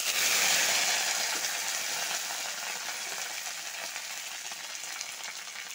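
Dried red chillies, bay leaves, ginger and curry leaves fry in hot oil, a loud broadband hiss that starts strongest and slowly eases into a steadier sizzle.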